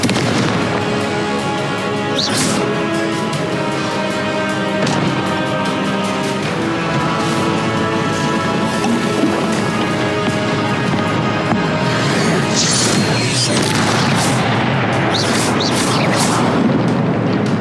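Confringo fire spells explode one after another in Hogwarts Legacy combat. A continuous, loud wash of booms and blasts plays over game music, with sharper bursts standing out near the start and toward the end.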